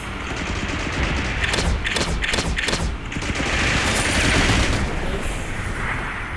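Rapid gunfire in the mobile shooter game FRAG Pro Shooter, dense bursts of automatic shots over a constant loud game soundscape, with a quick run of distinct shots in the middle.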